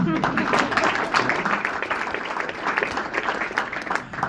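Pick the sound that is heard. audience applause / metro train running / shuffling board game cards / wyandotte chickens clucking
audience applause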